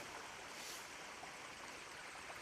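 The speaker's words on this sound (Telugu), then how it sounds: "ఇక్కడ వాటర్ ఫ్లో చూసుకోవచ్చు ఎంత మంచిగా ఉందో. పైనుంచి కొండపైనుంచి న్యాచురల్గా అలా అయితే వచ్చేస్తుంది." A natural stream pours down a rocky hillside on the Ahobilam Ugrasthambam trek in Andhra Pradesh, giving a faint, steady wash of flowing water with no pauses and no voices.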